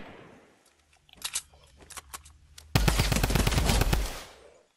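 Gunfire in a robot zombie creative map video game: a few scattered single shots, then a loud sustained burst of rapid automatic fire for about two seconds, close and dominant before cutting off.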